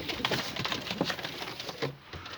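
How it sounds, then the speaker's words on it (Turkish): Soft, low cooing from small doves, a few throaty rolling calls close by over a faint rustling background. "Minyon tipli kuşlar."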